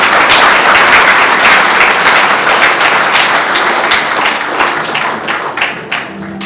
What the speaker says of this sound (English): May I ask you to give yourself a big round of applause for being here tonight.